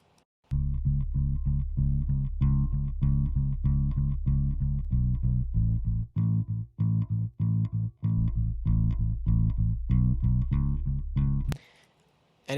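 Original bass track layered with a new sub synth bass in a mix, a dense, loud pulsing line of repeated bass notes with a deep low end, running nearly continuously with brief gaps before a short noisy burst at the end.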